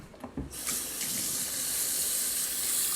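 Tap water runs into a sink for hand washing, starting after a few brief handling knocks and then holding as a loud, steady, close rushing stream.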